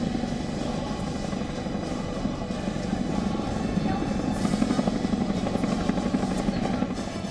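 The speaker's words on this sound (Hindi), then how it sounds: "इसके बाद सैनिकों के लिए हेवी लिफ्ट हेलीकॉप्टर शिनूक से वहां गाड़ी पहुंचाई गई।" A Chinook heavy-lift military helicopter flies during an India-US joint war exercise, its rotors producing a steady, dense throbbing roar at moderate distance, constant throughout with no voices.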